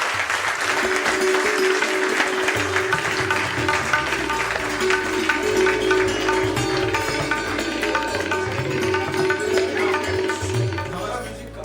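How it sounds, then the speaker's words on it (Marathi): An audience at a ceremony naming a hall after Deepak and Sarita Desai breaks into sustained, dense clapping that fills the room for over ten seconds, with a tonal background of music running beneath. "जोरदार टाळ्या झाल्या पाहिजे"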